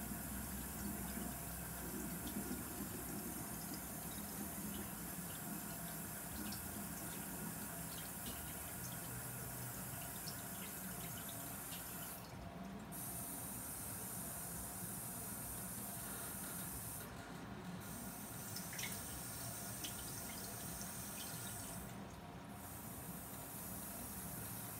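Tap water runs steadily into a sink while the temperature is being adjusted, a continuous soft hiss and splash, with a few short bursts of sharper spray partway through.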